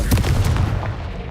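A Confringo fire spell blast in the Hogwarts Legacy game: one sharp, loud booming burst at the start that rumbles and fades over about a second, with no talking.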